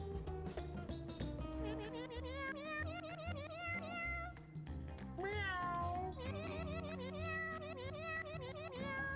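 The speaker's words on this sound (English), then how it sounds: "What is with this meow and who's doing that?" Repeated cat meows ring out in the Mewgenics video game, rising and falling over a busy musical backdrop that runs throughout.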